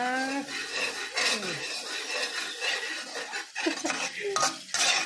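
Korat rice noodles stir-fried in a pan over low heat, with close, repeated scraping and clanking of a utensil against the pan over a light sizzle, and a voice talking intermittently.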